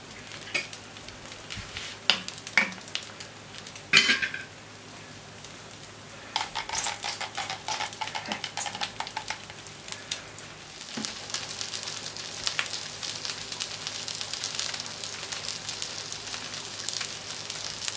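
Duck aiguillettes sear on a plancha heated to 180 degrees, with a steady crackling sizzle throughout. Scattered clacks of a utensil on the metal surface come through early on, and the frying builds denser toward the end.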